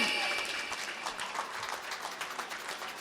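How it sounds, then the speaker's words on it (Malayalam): An audience applauds the winner of a biryani cooking competition, a faint, dense patter of clapping that tapers slightly while a voice speaks over it. "നല്ലൊരു കൈയടി."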